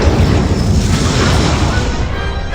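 An Incendio fire spell cast in Hogwarts Legacy, a loud, close whooshing burst of flame with a heavy rumbling boom that roars steadily and then slowly tapers off, with no voices over it.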